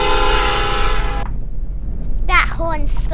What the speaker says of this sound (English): That horn's so loud.